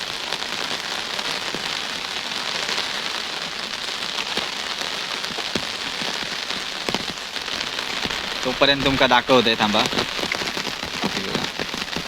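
Heavy rain pours down beside a flooded river, a dense continuous hiss of drops drumming on surfaces, loud and unbroken, with a voice briefly speaking near the end.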